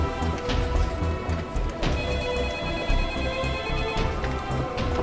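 A telephone rings repeatedly in a busy police task-force office, a bright electronic ring standing out over a dense, steady background with no talking.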